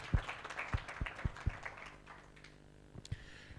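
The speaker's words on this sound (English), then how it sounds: "Let us clap for them." An audience at a disability-inclusive education learning event claps for panelists: a thin scatter of distinct, fairly faint hand claps that fade after a couple of seconds, with a few more near the end.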